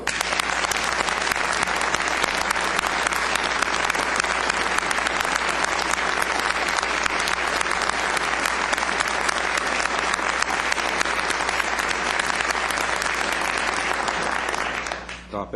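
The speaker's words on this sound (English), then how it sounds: "You're not allowed to applaud." A crowd at a Coquitlam city council meeting gives loud, sustained applause for about fifteen seconds before it tapers off at the end.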